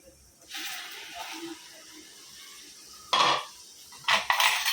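Tomato paste from six tomatoes hits a pan of frying ginger and garlic for mutton, a hiss rising after a quiet start, then louder bursts of sizzle and scraping near the end.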